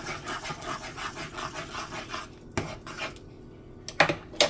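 Corn soup stirred in a pot with a utensil, producing rhythmic scraping strokes against the metal, then a pause and a few sharp clanks of spoon on pot, close and clear.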